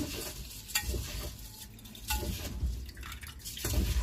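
Wet swishing and sloshing of water as rice is rinsed by hand, with small drips and splashes, close up and continuous.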